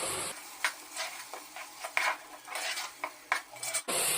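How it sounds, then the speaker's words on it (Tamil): Blended tomatoes being sautéed in oil for a fish curry, with a spoon scraping and stirring against the pan in repeated strokes over a soft background sizzle, close and fairly quiet. "இந்த தக்காளி நல்லா ஆயில்ல வதங்கி எண்ணெய் பிரிஞ்சு வரணும்"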